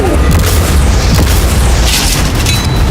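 Cannon fire slams into a yacht in a continuous heavy booming barrage, loud and close, with deep rumbling impacts filling the whole stretch.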